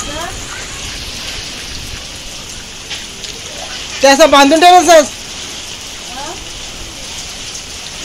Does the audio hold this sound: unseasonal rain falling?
yes